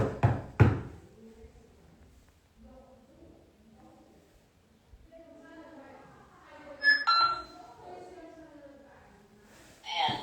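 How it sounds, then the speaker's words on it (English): Knocks on a hard surface during a nighttime ghost-hunting session at an old school, starting with a few sharp raps at the opening, then a quiet stretch with faint talk and another short cluster of knocks near the end. "would you be able to make a knock for us like this?"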